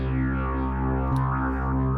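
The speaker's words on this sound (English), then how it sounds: "So altogether, that's quite a rich drone." A dense, layered synth drone holds steady tones with shifting filtered overtones, sustained and continuous without any break.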